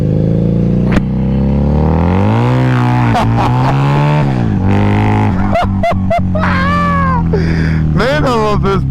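A Harley V-Rod Muscle rides off-road, its loud engine droning and rising and falling in pitch as the throttle revs, with sharp bursts through the pass. A person talks over the engine noise.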